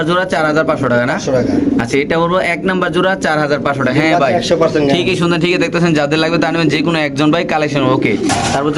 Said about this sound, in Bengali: ইতিমধ্যে আপনারা লাহরি কবুতরগুলো দেখতেছেন খুব সুন্দর মার্শাল্লাহ কবুতরগুলা